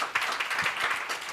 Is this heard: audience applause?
yes